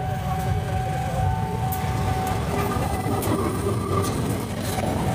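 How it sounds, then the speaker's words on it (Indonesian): A train rolls past on the railway close by, a loud continuous rumble with rhythmic clattering of wheels over rail joints and faint squeals. "Awas, masuk kereta ketiga apa keempat nih?"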